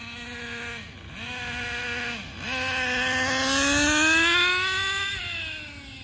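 A Traxxas Nitro Bandit RC car's small nitro engine runs loud and close, its high buzzing whine dipping twice on the throttle, then rising steadily in pitch as it revs up before easing off slightly at the end.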